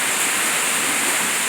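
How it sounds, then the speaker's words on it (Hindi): Steady, dense hiss of heavy rain pouring down, constant and enveloping with no other sounds. "कितना मस्त बारिश आओ थे,"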